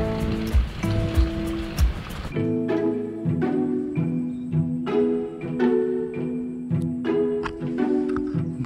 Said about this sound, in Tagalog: pa bumagsak ng ulan